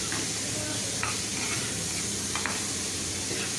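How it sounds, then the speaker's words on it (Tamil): Onions sauté in hot oil in a pan for kuzhi paniyaram, with a loud, continuous close-up sizzle and a couple of brief stirring scrapes. "ஆனியன் எல்லாமே ஆட் பண்ணி நல்லா வதக்கி விட்டுட்டு"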